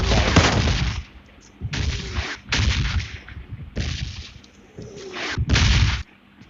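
Bursts of gunfire in PUBG Mobile Lite, fired at a bot: loud, close volleys of rapid shots in about six separate bursts with short pauses between them.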